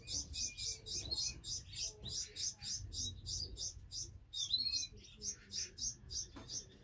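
An Irish Fancy canary chirps inside its cage in rapid, regular bursts of high tweets, close and fairly loud, with a low rumble of room noise underneath.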